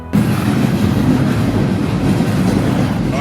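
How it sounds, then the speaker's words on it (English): A freight train rolls along a track in Alabama in December, a loud, steady low rumble with continuous clickety-clack of wheels heard from close by, with no talking. "Alright, train probably started rolling."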